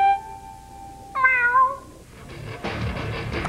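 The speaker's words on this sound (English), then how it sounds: "it had a slug that goes meow" Meowing from Gary the snail in the SpongeBob Battle for Bikini Bottom video game, a clear cat-like meow rising then falling, followed by a burst of game sound effects.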